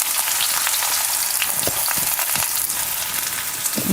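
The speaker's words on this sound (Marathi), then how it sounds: "बारीक चिरलेला कांदा घालूया" Finely chopped onion drops into hot oil with cumin, making a loud continuous sizzle and crackle up close, with occasional stirring scrapes and no talking.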